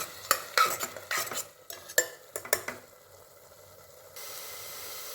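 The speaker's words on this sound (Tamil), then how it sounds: "இதை நல்லா எண்ணெய் பிரிகிற வரைக்கும் வதக்கணும்." Masala sautéing in oil for vallarai rice, a burst of brisk stirring with a ladle clacking and scraping against the pan over a light sizzle, then the stirring stops and a faint hiss carries on.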